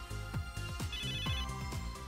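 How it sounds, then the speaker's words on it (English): An Endgear phone ringtone from MegaDimension Neptunia VII plays alone, a quick repeating electronic melody of bright chiming notes in a steady rhythm, fairly quiet. "That's my Endgear's ringtone."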